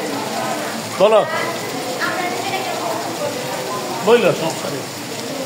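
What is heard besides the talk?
rain falling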